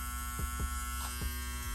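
A small Andis ReSurge electric shaver hums steadily and fairly quietly, with a few soft clicks and thumps as it runs.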